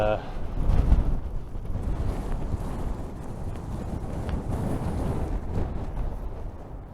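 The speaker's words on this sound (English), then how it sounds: "And it's very windy." Steady wind roars and buffets the microphone throughout, a dense low rumble with gusts, under a speaking voice.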